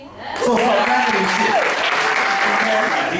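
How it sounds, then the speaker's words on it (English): Loud audience applause and cheering at a poetry lounge, a dense sustained wash of clapping that swells quickly and holds, with voices and shouts mixed in. "we're gonna give them a round of applause before they even get on"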